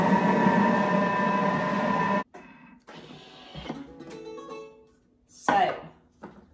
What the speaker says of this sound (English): I'm going to mix it for 30 seconds on speed 5